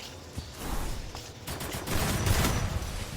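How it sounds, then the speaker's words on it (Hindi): Gunfire in a shooter video game, a dense burst of rapid shots that swells louder toward the end over a short stretch, with no talk. "अरे ये लोग गोली क्यों उस पे चला रहे हैं?"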